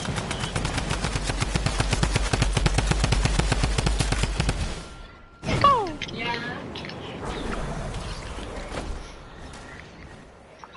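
Pump shotgun and other gunfire in the video game Fortnite rattle in a fast, steady string of loud shots for several seconds, then give way to a swooping effect, scattered quieter shots and talking voices.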